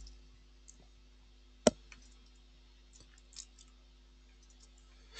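A single sharp computer mouse click stands out against a quiet room with steady low hum, followed by a few fainter clicks and small taps while navigating project-management software.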